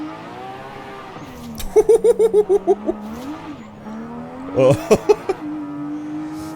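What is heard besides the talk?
drift car engine driving, from video game Forza Horizon 5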